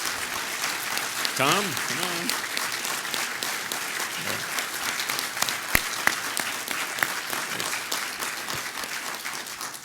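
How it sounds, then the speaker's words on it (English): Conference audience gives sustained applause for the speakers, a steady roomful of clapping with a voice briefly calling out over it. "have a round of applause for them"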